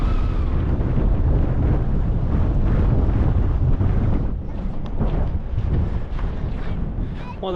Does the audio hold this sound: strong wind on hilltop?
yes